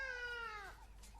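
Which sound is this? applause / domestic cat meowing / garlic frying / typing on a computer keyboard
domestic cat meowing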